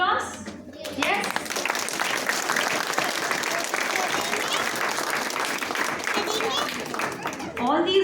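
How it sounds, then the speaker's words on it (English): Sustained applause from a school audience at a children's readers theatre performance, dense and steady for several seconds before tapering off near the end. "Should we give you another round of applause?"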